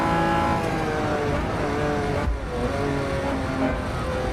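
Porsche 935 race car in the racing game Assetto Corsa EVO, engine droning steadily and loud at close range, with a short dip partway through and no talking.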